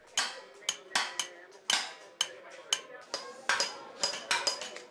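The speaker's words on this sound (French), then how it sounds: "les marteaux résonnent" Hammers ring out on metal along a coppersmiths' and blacksmiths' street in a Cairo bazaar, a dozen sharp irregular strikes with bright metallic ringing that overlap and echo.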